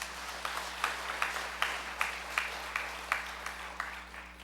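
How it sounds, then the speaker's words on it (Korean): A church congregation claps in blessing, a steady wash of applause from many hands with faint rhythmic accents, filling the room at moderate loudness, without speech over it. "여러분들 이분들 위해서 축복의 박수하겠습니다."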